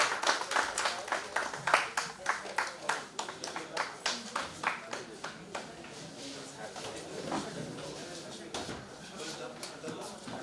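Audience clapping welcomes a chief guest onto the stage at a press meet, a brisk burst of hand claps that thins out into scattered claps and room murmur.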